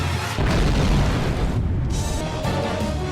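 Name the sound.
explosion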